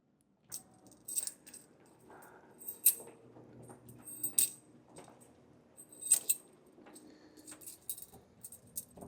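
A set of keys jangles and clinks in sharp bursts, metallic rattles close by with pauses between shakes, as if being handled and sorted.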